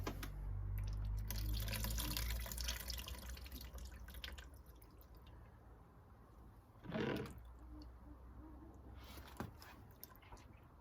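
Coolant drains from an Aprilia RS50 motorbike with the water pump undone, a faint trickle and scattered drips that grow quieter, with a couple of louder splashes near the middle and end.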